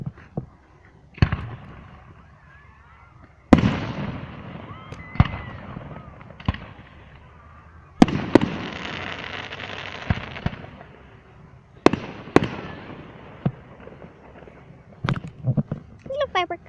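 Canada Day fireworks bursting outdoors as a series of sharp, loud bangs spaced a few seconds apart, each followed by crackling decay, ending in a rapid flurry of small pops; people talk between the blasts.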